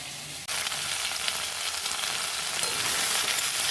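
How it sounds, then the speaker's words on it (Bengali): Potato and taro pieces frying in oil with salt, stirred in the pan, a dense continuous sizzle that jumps up after a brief quieter start, with faint scraping, no voices. "নুন দিয়ে আবারও নেড়ে চেড়ে নেওয়া হচ্ছে।"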